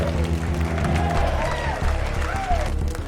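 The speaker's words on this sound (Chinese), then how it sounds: "当潜水员们走出山洞的时候，人们欢呼雀跃，鼓起了非常有节奏的掌声。" A crowd at the Thai flooded-cave rescue applauds and cheers as divers come out, a dense wash of clapping and voices heard under other sound throughout.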